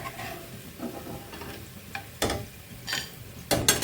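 Nimki, a Bengali fried dough snack, frying in hot oil, with a soft steady sizzle and a few sharper crackling bursts as the pieces are moved; no one speaks.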